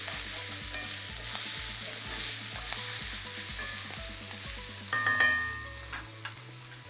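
Portobello mushrooms fry in a pan while being stirred, a steady sizzle under repeated scraping and clinking of the utensil against the pan, close and continuous.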